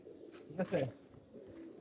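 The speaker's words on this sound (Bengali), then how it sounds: "গাংচিল লাইনের কবুতর" A Gangchil line pigeon gives a short, soft coo close by, a brief low burst against a quiet background.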